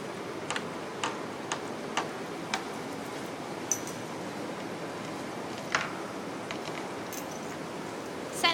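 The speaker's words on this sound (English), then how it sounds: "she will loosen the bolts." Bolts on swimming pool stairs are loosened with a tool, giving a series of faint, evenly spaced metallic ticks over a steady background hiss, with a few sharper clinks later on.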